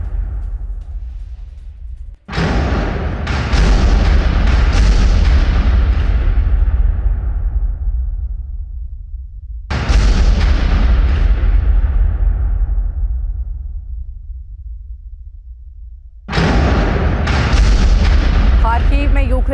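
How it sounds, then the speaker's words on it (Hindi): Three massive artillery blasts strike a Ukrainian military camp in Kharkiv during a Russian attack, each a sudden loud boom followed by a long rumbling roar that slowly fades before the next hit. "जोरदार धमाके के बाद कई यूक्रेनी सैन्य कैंप तबाह हो चुके हैं"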